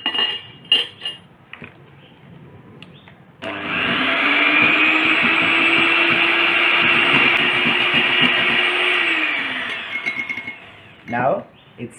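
An electric hand mixer beats an egg yolk mixture with vanilla for Vietnamese egg coffee, a loud steady whir lasting several seconds between softer clinks of utensils and a bowl.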